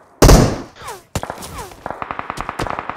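Gunfire in the video game PUBG: a loud close shot with a ringing tail, another shot, then a rapid run of sharp, fainter bursts fired in quick succession.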